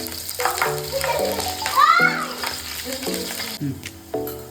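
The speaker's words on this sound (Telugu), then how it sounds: "ఆలుగడ్డలు వేయించుకున్నాము." Potatoes frying in oil with mustard seeds, cumin and green chillies, a steady sizzle in the pan under children's voices and someone talking.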